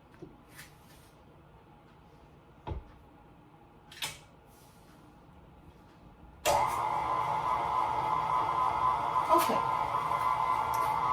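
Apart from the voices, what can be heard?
electric mixer creaming butter and sugar for poundcake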